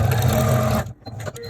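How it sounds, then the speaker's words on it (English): A sewing machine stitching down the sides of a fabric face covering, a steady loud whirring run that stops abruptly partway through, followed by quieter handling sounds and a voice. "I'm now going to sew down each of these sides."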